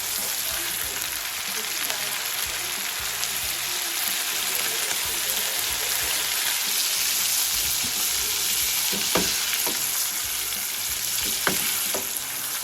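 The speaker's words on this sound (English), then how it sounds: "we just want to drop those into the oil" Beef cheek pieces deep frying in hot oil for tacos, a steady loud sizzle throughout with a few sharper pops near the end, no talking.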